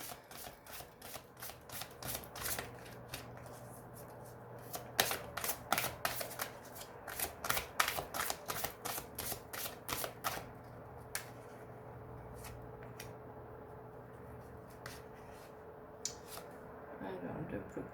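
Tarot cards being shuffled and handled in a fortune-telling reading, giving a long run of quick, crisp riffling flicks and soft paper slaps up close, loosening into sparser single snaps toward the end, with no one talking.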